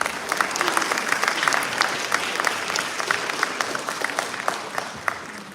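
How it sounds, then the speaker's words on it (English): Audience applause after a dance arangetram performance, a steady dense wash of many hands clapping in a hall, loud and sustained for several seconds without talk. "Let's give them another round of applause."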